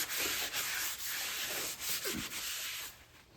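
A rag wipes oil off the flywheel of a 1997 Mustang Cobra engine before the clutch goes on, giving a close, steady scrubbing and rubbing sound in repeated strokes with no voices.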